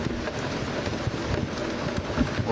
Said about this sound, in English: Rain coming down a lot harder now.